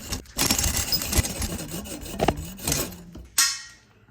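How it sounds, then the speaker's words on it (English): A hacksaw rasps back and forth through a metal motorcycle foot peg in uneven, close strokes, with a brief sharper scrape near the end. "so I'm gonna finish this off with the hacksaw"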